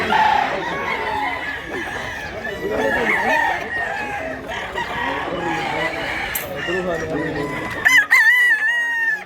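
Roosters crow repeatedly and loudly at a busy chicken market in Mantalungon, Barili, Cebu, with overlapping crows and clucks from several birds and a sharp close crow near the end.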